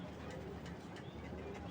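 Racing pigeons in a loft give off soft, steady low cooing and murmuring under a constant background hum, quiet and unbroken throughout.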